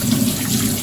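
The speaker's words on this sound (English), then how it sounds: "wash the hands a bit" Tap water running steadily over hands being washed at a kitchen sink before cooking pork chops, a short, loud, continuous rush of water with no voices.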